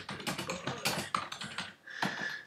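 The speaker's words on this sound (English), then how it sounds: "and I'm just going to type in something." Typing on a computer keyboard, a quick run of soft clicky keystrokes close to the microphone, fairly faint, with a brief pause partway through.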